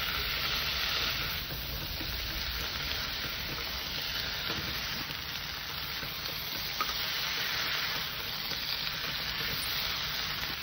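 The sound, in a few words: vegetables with spinach sautéing in a pan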